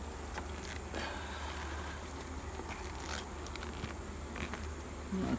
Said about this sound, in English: These bees are quite happy today